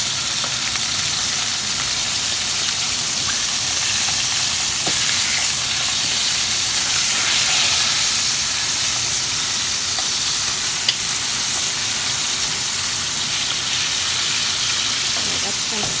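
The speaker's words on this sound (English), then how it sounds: "Once it's fried both sides, I'm going to watch it so it doesn't get burned." A lamb shank fries in a pan, giving a steady, loud sizzle with crackling spatter that holds constant throughout.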